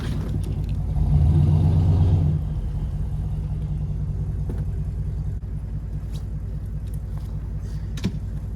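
A pickup truck strains to pull a long-parked, chained-up Volkswagen Jetta onto a trailer. A steady engine rumble briefly swells as it revs, then settles into a constant low idle outdoors.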